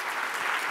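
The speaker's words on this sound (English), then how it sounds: "if you could please give them a round of applause" Applause from a conference audience at an opening ceremony, a dense, steady wash of clapping from many hands that holds at an even level for the whole short stretch.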